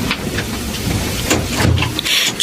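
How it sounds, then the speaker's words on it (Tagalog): Heavy rain pours in a thick, constant hiss. A few louder spatters and low rumbles come through in a dramatic indoor scene with no talking. "Ang lakas ng ulan, ha?"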